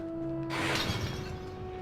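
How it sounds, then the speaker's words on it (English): Ceramic jars smash in the Harry Potter and the Sorcerer's Stone video game, one bright crash with scattering shards over a steady game music drone, no talk. "I think I smashed every single jar"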